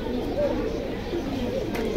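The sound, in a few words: Koskosa pigeon cooing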